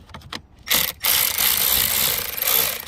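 A ratchet wrench loosening the 10 mm terminal bolts on an Infiniti Q50 car battery, a few quick clicks followed by a sustained, loud, close buzzing ratchet whir, with no speech.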